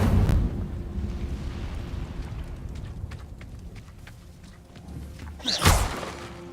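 Incendio fire spells burst in Hogwarts Legacy: an opening fiery whoosh gives way to a rumbling crackle, then a sharp, loud flare of flame near the end, with no talking over it.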